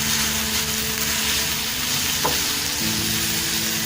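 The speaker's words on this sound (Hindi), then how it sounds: "ये बंद गोभी और ये ग्रीन चिलीज जो हमने काटी हैं ये हम डालते हैं और इसको फ्राई करते हैं" Shredded cabbage and green chilies fry with chicken in a pan for a sandwich filling, giving a constant loud sizzle with stirring scrapes and a faint utensil clink, no voices.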